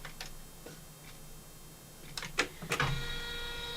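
An embroidery machine basting fabric into the hoop, giving sparse sharp mechanical ticks and clicks in short bursts, close and fairly quiet, with a busier cluster of clacks toward the end.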